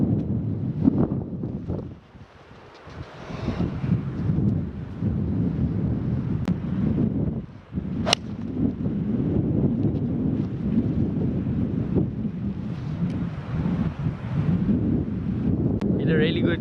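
Strong gusting wind on a golf course roars steadily across the microphone for the whole stretch, with a brief lull and occasional sharp knocks, heavy and close.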